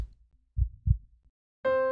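A slow heartbeat plays as two soft, low, muffled thumps close together, followed by a sustained musical tone.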